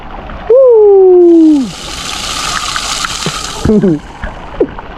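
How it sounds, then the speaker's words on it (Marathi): Steady roar of a waterfall in hilly country fills the background while a person speaks over it, with a brief high whistle-like tone near the start. "इकडे मंडळी धबधबा बघा खतरनाक"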